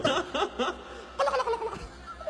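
A person's voice imitates a turkey gobble in several quick warbling bursts, then a pause and another burst of gobbling sounds, loud and close, with no other talk.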